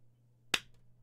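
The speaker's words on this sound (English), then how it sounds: "he claps his hands." A single sharp hand clap or snap, close and crisp, with a quick decay over a faint steady low hum and otherwise near silence.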